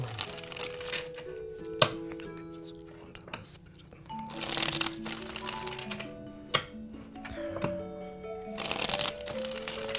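Tarot cards being shuffled and handled, with crisp riffling bursts and card snaps recurring across the span, close and fairly loud, while someone speaks between the bursts.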